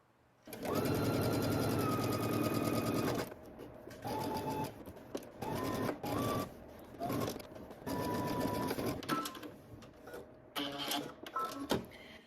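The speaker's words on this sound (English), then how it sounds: "We're going to stitch using 5/8 of an inch seam allowance." A sewing machine stitches a garment sleeve seam at a 5/8-inch allowance, first in one long steady run and then in a series of short stop-start bursts, close and clear with no voices.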